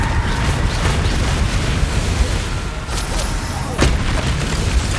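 Bombarda explosion spell in the game Hogwarts Legacy, heavy booming blasts and rumbling impacts in a dense battle mix, with several sharp bursts standing out.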